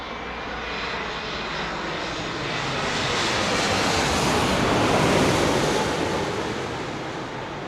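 A steady roar of airliner jet engines at Heathrow Airport swells gradually louder and then eases slightly, a continuous broad whoosh with no talking.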